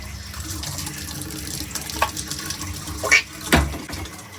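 Tap water runs steadily into a kitchen sink while raw chicken is washed, the flow broken by a few brief splashes and louder gushes near the end, close by, with no talking.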